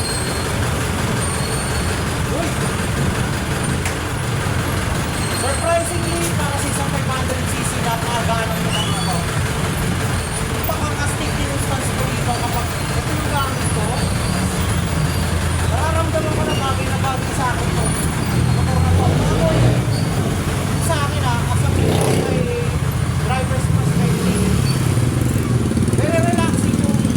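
Loud, steady engine drone and road rumble from a moving FKM Coolser 500 motorcycle, with someone talking over it throughout.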